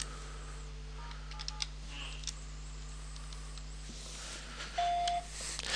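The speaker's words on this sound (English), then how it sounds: "So what we will do is dial *77 on the phone" Keypad tones dial star-77 on a phone connected to a Trixbox PBX system: a few short beeps, then a longer steady tone near the end, all over a constant low hum.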